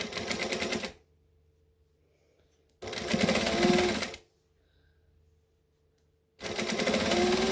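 A sewing machine stitches along a fabric edge in three short, fast runs. Each run is a dense mechanical whirr, separated by quiet pauses while the fabric is shifted.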